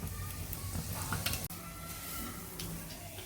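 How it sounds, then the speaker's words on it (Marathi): Cumin seeds and asafoetida hit hot oil for tempering a quick raw mango pickle, giving a steady, fairly quiet sizzle with faint crackles and one brief sharp click midway, close and without speech. "तेलामध्ये मी 1 चमचा जिरे आणि हिंग टाकणार आहे"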